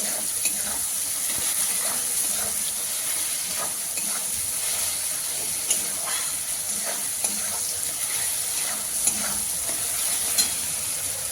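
Tomatoes and onions sautéing in a pan for a green-pea ghugni, a loud continuous sizzle with steamy hiss and repeated scraping, clicking stirs throughout, no voices.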